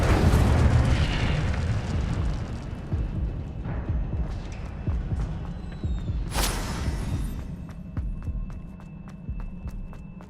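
A burst of fire erupts from an Incendio spell cast in Hogwarts Legacy, a loud whooshing blast with crackling rumble under game music, followed by a sharp bright flare midway and a lingering hum.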